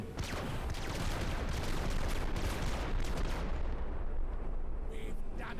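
Heavy weapon fire in the tactical game Menace, a loud roaring barrage of blasts that holds steady for several seconds and then cuts out near the end.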